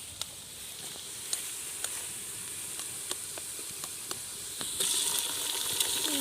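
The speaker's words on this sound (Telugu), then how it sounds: "దోస్తులు ఇప్పుడు గుడ్లు అయితే వేసుకుందాం దోస్తులు." Eggs fry in a pan with chilies, a steady hiss of sizzling oil broken by scattered small pops and clicks, which grows slightly louder near the end, with no talking.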